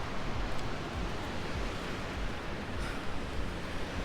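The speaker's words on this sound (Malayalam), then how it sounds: "വെള്ളച്ചാട്ടം വരുന്നുണ്ട് മലയിൽ നിന്ന്" A mountain waterfall on the trek from Paiya toward Everest Base Camp gives a steady, diffuse rushing roar, fairly faint and distant, with some wind buffeting the microphone.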